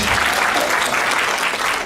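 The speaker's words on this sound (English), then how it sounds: "Let's give them a round of applause for their beautiful banners" Loud, close applause from the audience at an animation panel, a thick continuous roar of clapping hands that fills the brief moment.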